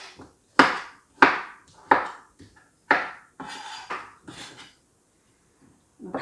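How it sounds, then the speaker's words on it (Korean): A knife chops kabocha pumpkin into cubes on a cutting board, several sharp separate thunks with short pauses between them, close and loud, with no talk. "이제 단호박을 깍두기 모양으로 썰어주세요"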